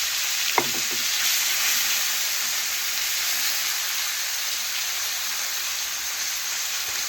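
Small fish sizzle steadily in hot oil in a pan, a dense, even frying hiss that carries on without a break, with a faint clink near the start.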